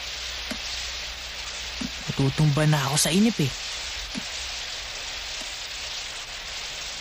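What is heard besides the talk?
rain falling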